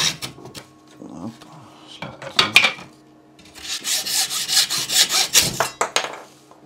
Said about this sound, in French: on va jouer un petit peu de la scie à métaux